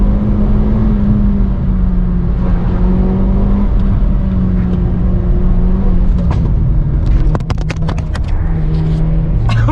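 A new sports car is driven hard from inside the cabin, its engine a loud, close drone that climbs in pitch through the gears, with brief clatter and bumps near the end.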